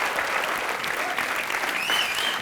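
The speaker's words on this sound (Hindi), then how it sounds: "राखी सावंत जी की मम्मी जया सावंत के लिए जोरदार तालियां।" Studio audience at Comedy Nights Bachao gives loud, steady applause for Rakhi Sawant's mother, a dense continuous clapping wash with a few faint cheers, brief and unbroken.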